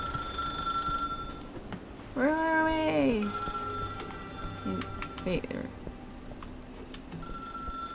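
Telephone ringing in the puzzle video game Dimhaven Enigmas: a bright, warbling electronic ring sounds once for about a second, then a speaking voice follows over a steady background music bed.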